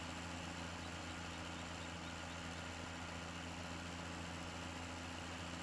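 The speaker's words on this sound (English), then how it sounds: "it'd be nice if this tractor was a little quicker." A tractor engine in Farming Simulator 17 drones steadily and evenly throughout, a constant low mechanical hum with no breaks and no voices.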